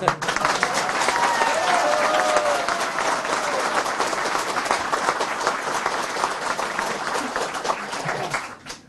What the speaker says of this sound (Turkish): Bu alkışları biraz daha yükseltelim ki belki Ankara'dan duyuruz.